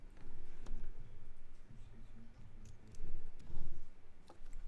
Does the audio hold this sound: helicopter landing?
no